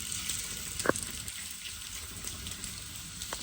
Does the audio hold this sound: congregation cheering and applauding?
no